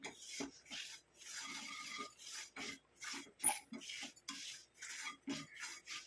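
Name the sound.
stirring amla powder roasting in a pan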